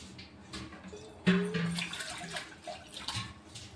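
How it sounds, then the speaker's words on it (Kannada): Water poured into a cooking pot of ground peanut powder, a splashing gush that starts abruptly and then runs on steadily, close and fairly loud, with no voices. "ಈಗ ಇದಕ್ಕೆ ನೀರು ಹಾಕ್ಬೇಕ್ರಿ"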